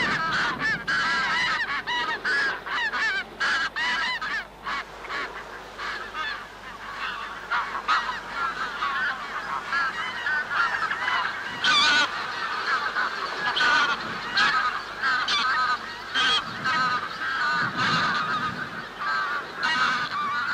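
Greylag geese in autumn on Uist, a dense flock honking continuously in overlapping calls, loud and close throughout with no voices.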